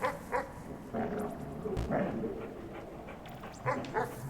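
Puppy barking and whimpering in the video game Animal Well, a few short yips and barks spread across the clip, moderately loud over a busy game soundscape.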